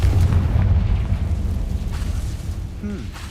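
A spell blast in the video game Hogwarts Legacy erupts as a loud, deep boom with a rumbling low-end tail that slowly decays, followed by a brief faint magical whoosh.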